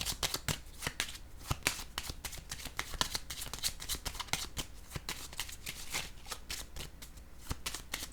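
Tarot cards riffle and shuffle in a steady run of crisp, close slaps and flutters, with occasional cards laid down, continuing throughout with no talking.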